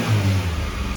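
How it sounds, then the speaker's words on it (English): Up close and loud, a small car's freshly rebuilt engine runs strong, its steady rumble surging slightly before cutting off abruptly. "It's running really strong."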